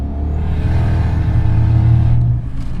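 A large single-turbo 6-liter V8 in a long-wheelbase Jaguar XJ Vandenplas revs in a steady, loud, close rumble with a rising whir, holding for a couple of seconds before easing off near the end.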